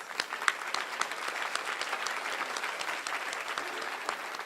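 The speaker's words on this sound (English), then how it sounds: "If you would please give another round of applause to everyone who contributed to this success." Luncheon audience clapping in an even, sustained round of applause that fills the room, moderately loud with no talk over it.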